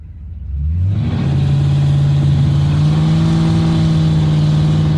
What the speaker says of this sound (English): Poor gutless thing will even do a burnout.